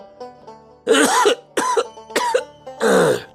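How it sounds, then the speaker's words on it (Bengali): Several harsh, separate coughs close to the mic, spaced out over a few seconds, with quiet pauses between the bursts. "তোমার কাশিটা তো এখনো কমেনি বাবা"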